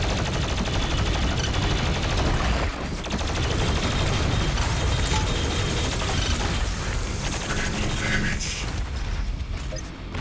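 Constant heavy enemy gunfire from a Doom Sled in the Doom Eternal video game, loud rapid bursts layered with booms and mechanical clatter that do not let up.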